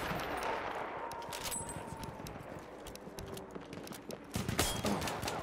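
Rapid bursts of gunfire in Battlefield 1 multiplayer crackle in quick clusters, fairly faint against a noisy background, growing denser toward the end.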